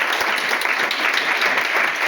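An audience at a business demonstration meeting claps steadily to welcome first-time attendees, a close, loud and even patter of many hands with no one speaking.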